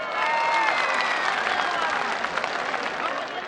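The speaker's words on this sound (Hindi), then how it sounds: "भरपूर तालियां इनके लिए" A large crowd at a political rally claps for the women in attendance, dense sustained applause that stays steady and loud for several seconds, with voices mixed in.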